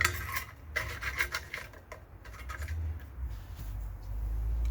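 Keg fittings being screwed back on and tightened by hand: close, scraping metallic rubs and light clinks in short bursts, with no talking.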